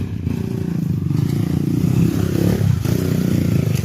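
A trail motorcycle's engine rumbles steadily and close, with light clatter and rising revs, and no talk.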